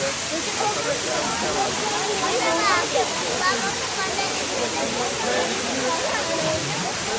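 A waterfall rushes in a continuous, loud, close hiss and roar, with voices talking over it.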